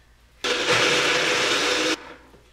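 A kitchen blender whirs orange zest into a puree in one steady, loud pulse of about a second and a half, starting and stopping abruptly against a quiet room.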